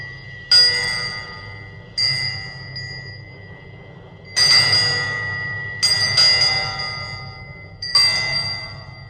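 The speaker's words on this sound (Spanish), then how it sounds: "enseguida resonó con fuerza, y a su son se unieron las demás campanillas de la casa" Small house bells ring out in five distinct bursts, each bright chime starting sharply and fading, spaced a second or two apart over a low steady rumble, with no voices.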